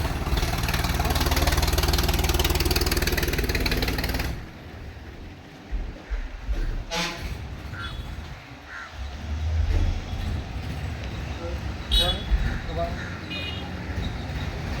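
A vehicle engine idles and revs as it turns around on a damaged, potholed road, a loud steady rumble that cuts off and gives way to quieter engine noise, with crows cawing and people talking.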